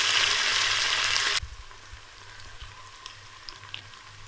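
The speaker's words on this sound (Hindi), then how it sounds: "अब इसमें 2 दरमियाने साइज के टमाटर बारीक कटे हुए वो डाल देंगे। अब इनको नरम होने तक पका लेंगे।" Two medium finely chopped tomatoes go into a hot pan for karela gosht, first with a loud burst of sizzling frying, then settling into a much quieter, gentle simmering crackle with occasional small pops.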